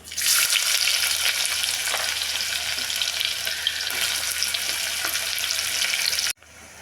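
Onion frying in a pan with green cloves, pepper and cumin for veg pulao, a loud, close, steady sizzle that continues unbroken for several seconds before cutting off abruptly, with no talking.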